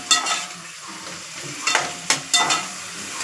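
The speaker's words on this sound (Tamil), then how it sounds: "இப்போ இந்த சவுச்சவை நல்லா மிக்ஸ் பண்ணி விடணும்." A spoon scrapes and stirs chayote in a sizzling pan, with a few louder strokes breaking through the steady frying hiss.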